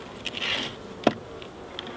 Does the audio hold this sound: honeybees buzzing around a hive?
yes